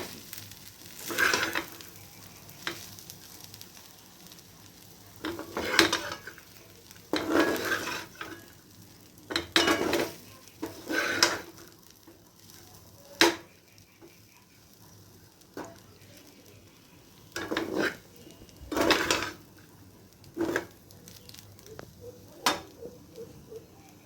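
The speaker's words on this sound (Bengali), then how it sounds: "তো একটু ভাজা হবে। তো আমার ভাত ভাজা কমপ্লিট হয়ে গেছে।" Rice is stir-fried in a pan, heard as bursts of sizzling and scraping from a spatula in repeated rounds separated by quieter pauses, close by and with no talking.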